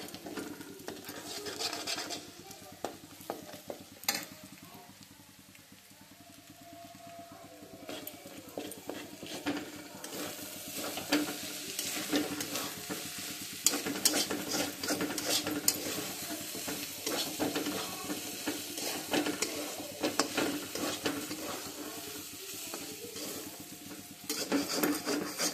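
Egg and soybean noodles fry in a pan with a steady sizzle, while a utensil scrapes and stirs against the metal over about twenty-five seconds.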